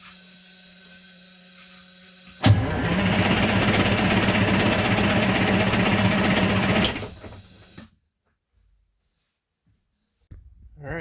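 A car engine cranks over on the starter for about five seconds during a compression test on bank 2, with a steady, loud, rhythmic churning that stops abruptly, followed by near silence.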